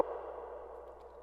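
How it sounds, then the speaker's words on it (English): A second rim shot sample from Direct Sample Pack strikes once with a hollow, ringing knock that lingers as a soft resonant tail for about a second, alone and fairly quiet. "And then I have a separate rim shot"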